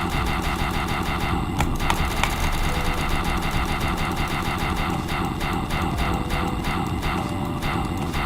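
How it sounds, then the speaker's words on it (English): A steam engine-like mechanical chugging from the Limbus Company video game: a steady, rapid rhythmic pulsing with hissing overtones, continuous and loud, with no talk over it. "Sounds like a steam engine."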